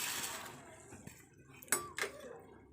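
Macaroni tipped into a pot of boiling salted, oiled water: a few quiet metallic clinks and a soft splash of pasta hitting the pot, brief and close, over faint background hiss.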